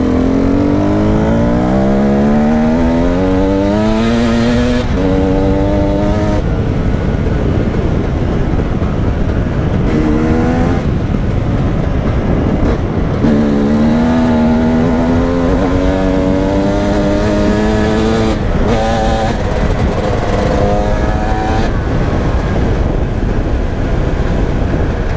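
A motorcycle engine runs steadily and loud, its pitch climbing and dropping as it shifts through gears and revs on the move.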